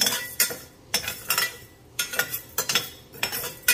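Toor dal frying in a pan for gongura pappu, with a spoon scraping and stirring in repeated short bursts of clinks and rasps, close and fairly loud, with no talk.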